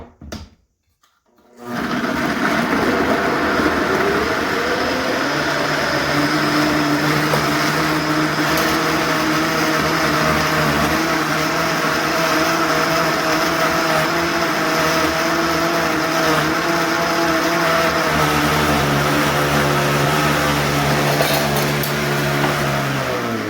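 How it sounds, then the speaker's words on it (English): An electric blender blending beets, lime, ginger and water runs loud and steady for over twenty seconds after a brief silent start, its motor whirring at an even pitch with no talk. "and you're going to blend"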